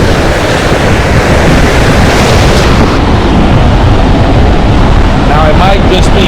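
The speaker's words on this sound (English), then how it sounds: "this surf out here is pretty ugly" Rough ocean surf crashes and roars continuously along a saltwater shore, very loud and broadband, with wind buffeting the microphone.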